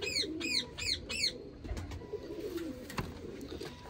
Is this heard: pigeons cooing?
yes